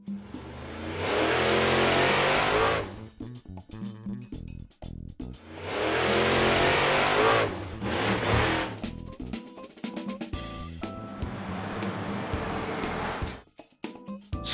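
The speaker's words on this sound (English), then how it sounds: "Monster Truck." A monster truck engine revs hard in loud, sustained roaring bursts, separated by short pauses and quieter mechanical clatter.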